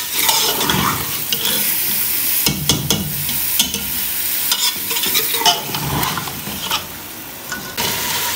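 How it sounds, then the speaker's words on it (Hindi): Chicken and onions fry in a pot for haleem, loud steady sizzling broken by repeated scraping stirs of the spoon, with a few splashy clanks and no talking. "इतना भूनेगी तो चिकन का कलर भी जो है चेंज हो जाए"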